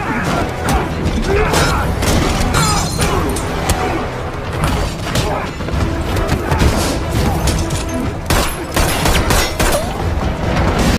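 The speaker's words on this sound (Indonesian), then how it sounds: "Tanpa sengaja tembakan itu mengenai Felix." Loud gunshots and crashing impacts burst out amid dense, chaotic action film sound, with several sharp bangs scattered over a continuous roaring background.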